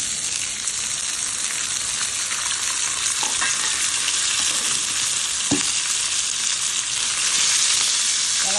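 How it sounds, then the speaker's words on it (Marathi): Soaked chickpeas, salted and dusted with asafoetida, fry in hot oil with a loud, dense, continuous sizzle close by, broken by a couple of brief clicks as they are stirred. "मीठ लावून ठेवलं आता तळू द्यायचं"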